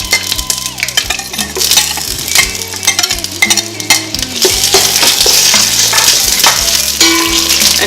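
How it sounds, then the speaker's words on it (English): Onions fry in oil for cumin rice, a steady sizzle with stirring and utensil scrapes over a hum, louder and denser in the second half. "Heat the oil for about 2 minutes, then add your onions."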